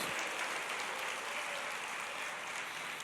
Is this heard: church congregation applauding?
yes